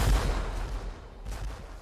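Ship's cannons fire during a sea battle between two sailing vessels, the Jane and the Adventure: a deep, loud boom opens, then a softer rumbling blast follows about a second later.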